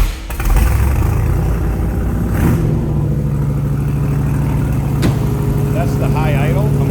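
A 302 engine in a 1966 Shelby Cobra replica with an automatic transmission holds a steady high idle, a loud low rumbling drone after a quick rev at the start.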